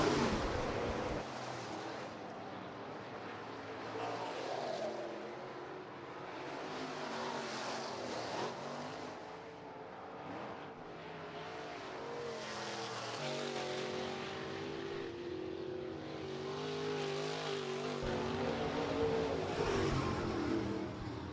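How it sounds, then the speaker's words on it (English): USRA stock cars race in a heat at Rapid Speedway, a continuous engine roar that rises and falls as the cars circle the track, heard from a distance with no voices. "Heat race number 1 of 3 for the USRA stock cars presented by Precision Auto Body"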